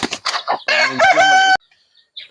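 Close-up free-range chicken sounds: a few short clucks, then a loud, drawn-out crow, followed by quiet peeping.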